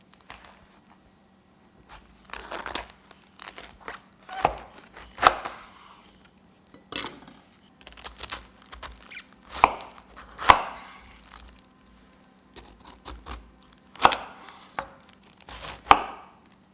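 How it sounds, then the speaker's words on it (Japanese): A knife finely minces vegetables for gyoza filling on a cutting board, with bursts of quick, crisp chopping strokes in irregular clusters separated by short pauses, close and clear with no talking. "まずは野菜のみじん切り。"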